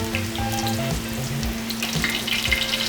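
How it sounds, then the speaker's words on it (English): Steady, loud sizzling of beer-battered halibut frying in hot oil in a pan, a continuous crackle with faint kitchen clatter underneath. "Okay, it's sizzling."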